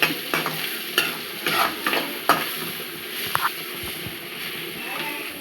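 Sabbakki (dill) leaves sizzle softly in hot oil in a tempering for toor dal while a spoon scrapes and taps the pan at irregular intervals, close by.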